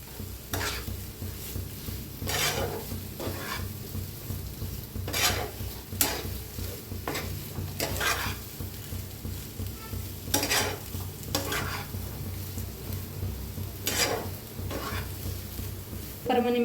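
An aloo paratha roasts on a hot pan with a low, steady sizzle, broken by regular sharp scrapes and presses every second or two.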